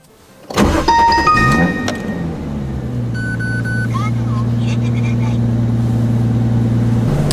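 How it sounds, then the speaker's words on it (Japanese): A car engine cranks and fires up, then settles into a steady idle hum, close and fairly loud, with brief electronic chimes and beeps from a dashcam setup inside the vehicle. "エンジンかけるか"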